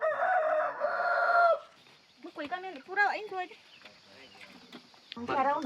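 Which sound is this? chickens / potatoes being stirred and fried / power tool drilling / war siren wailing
chickens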